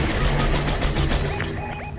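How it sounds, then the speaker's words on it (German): Rapid bursts of Fortnite gunfire, loud and close, repeating in quick succession before tapering off slightly toward the end. "Das war ein Schuss."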